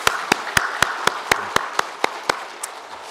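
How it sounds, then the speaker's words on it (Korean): About a dozen slow, evenly spaced claps ring out from a church congregation, each sharp and distinct over a soft background wash, like a small group clapping in unison rather than a full ovation. "우리 삼려도에 격려하는 박수 하도록 하겠습니다."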